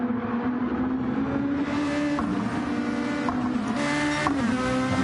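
A race car, likely a Porsche-class machine, engine droning steadily at high revs through the Porsche Curves at Le Mans in a racing video game, with gear-shift pitch changes near the end and no talk.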